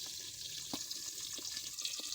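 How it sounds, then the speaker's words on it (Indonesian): Pindang tongkol fish frying in oil in a covered pan in a home kitchen: a soft, steady sizzle with occasional sharp pops and spits, fairly quiet and continuous, no voices. "Sekarang kita goreng dulu guys. Pindang tongkolnya guys."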